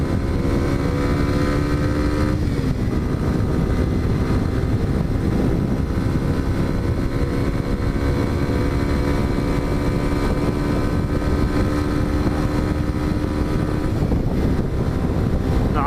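Kawasaki Z125 motorcycle fitted with an Arrow exhaust, a six-speed bike, riding with a steady, loud engine drone and a shift or rev change partway through, wind buffeting throughout.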